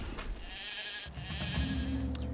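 Sheep bleat in the Titan Quest video game, a few wavering cries over a steady low game background rumble, with no talking.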